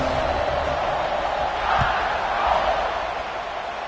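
A football stadium crowd before kickoff in a Gators versus Alabama game, a steady, dense roar of many voices filling the space with a faint thump partway through, broad and continuous.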